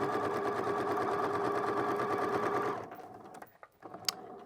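A sewing machine running a straight stitch around a garment neckline, a steady close mechanical whir for nearly three seconds that stops, followed by a few faint handling clicks.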